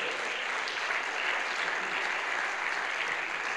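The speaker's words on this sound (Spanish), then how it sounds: "Fuerte el aplauso al Señor." Church congregation applauding steadily and loudly for the whole stretch, a dense, even wash of clapping with no pauses.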